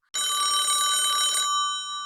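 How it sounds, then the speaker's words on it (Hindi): A telephone rings with a bright, steady electronic trill for over a second, loud and close, then stops, leaving a faint ringing tail and no one speaking. "घर पहुंचते ही उसके पास तुषार का फोन आया।"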